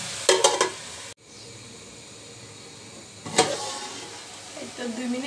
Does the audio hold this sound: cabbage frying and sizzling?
yes